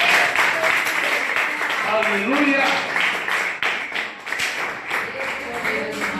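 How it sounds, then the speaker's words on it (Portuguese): Church congregation in a Portuguese-language worship service clapping hands in a steady rhythm, the claps running under a preacher's voice and shouts of praise. "As palmas ao Senhor."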